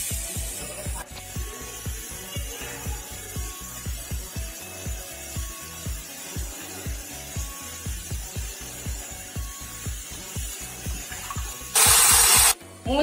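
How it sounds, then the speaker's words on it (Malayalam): A pressure cooker holding sambar with carrot and snake gourd puffs steam in quick rhythmic pulses, then lets out a short, loud, shrill whistle blast near the end. "മൂന്ന് വിസില് കേട്ട് ഫ്ലെയിം ഓഫ് ചെയ്തു"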